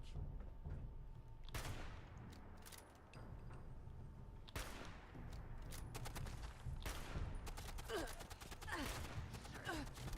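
Bursts of gunfire in the video game Fallout 76 crackle through a game mix, a string of rapid shots and volleys over a steady low background, fairly faint overall.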